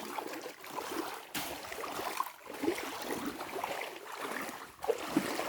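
A creek flows strongly and continuously, a steady stream with a broad churning roar and no voices.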